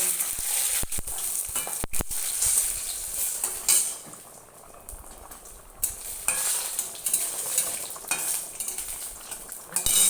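Lentil dumplings (bori) fry in hot oil in a pan, giving a steady, fairly loud crackling sizzle that runs through, with occasional sharp clinks and stirring knocks on top and no talk.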